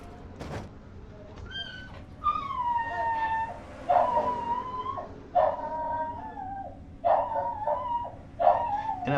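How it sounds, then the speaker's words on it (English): A dog barks and whines in repeated drawn-out, howling bursts near the microphone while a stock car race broadcast plays faintly in the background. "apparently my dog's happy that Kyle Matthews won this race"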